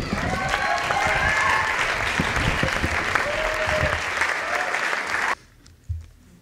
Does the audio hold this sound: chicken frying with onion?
no